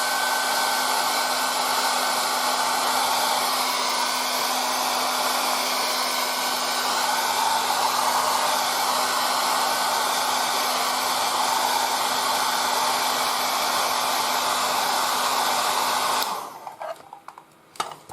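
Hair dryer blowing to dry paint on a 1:35 scale Trumpeter KV-1 model tank, a loud steady roar with a constant hum that runs for most of the clip and then cuts off, leaving a few faint clicks.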